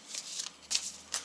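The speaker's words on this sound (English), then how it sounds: "These 2 map tiles are removed from the remainder, which are then shuffled." Cardboard map tiles from a zombie-themed board game are shuffled by hand, giving three or four quick riffling bursts close by with brief gaps between them.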